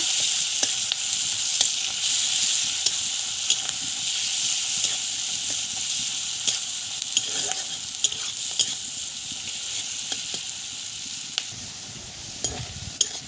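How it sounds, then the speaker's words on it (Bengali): Chopped onion and green chilli frying in hot oil, a constant close sizzle and hiss with intermittent scraping and clinking of a spatula stirring the pan, no voices. "পেঁয়াজটাকে ভালো করে ভেজে নেব"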